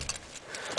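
Keys on a ring from a 1996 Dodge Neon jingling briefly, a few light metallic rattles close by and fairly quiet.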